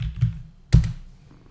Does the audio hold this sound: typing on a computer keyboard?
yes